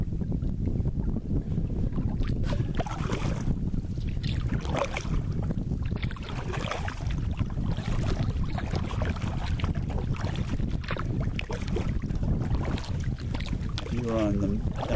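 Steady wind rushes over Lower Lake Myakka in Florida and buffets the microphone, forming a continuous loud roar with water sounds and faint talk beneath.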